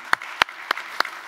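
A few separate, sharp hand claps ring out in a sparse, evenly spaced rhythm from a small audience at a digital panel discussion about the future of the chemical and pharmaceutical industry in Germany.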